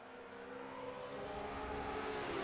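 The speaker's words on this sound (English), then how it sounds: "The two big BMWs leading the Porsche up the hill." Big BMW race cars climb a hill at Imola in a sim racing game, a steady engine drone that rises gradually in pitch and loudness as they accelerate, with no talk over it.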